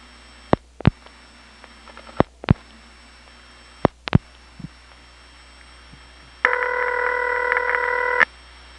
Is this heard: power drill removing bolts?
no